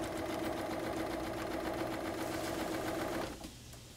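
Close, steady hum and rapid needle clatter from a sewing machine understitching a garment facing, running evenly for about three seconds before stopping abruptly.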